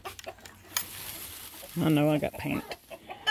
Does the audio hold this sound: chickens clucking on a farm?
yes